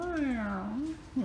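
A cat meows at a hotel, a single drawn-out tonal call with a short second sound right after it, fairly close and clear, with no talking over it.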